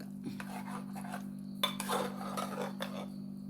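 A spoon scraping and clanking against a cooker while avial vegetables are stirred with ground paste, irregular metallic scrapes and knocks over a steady low hum, no voices.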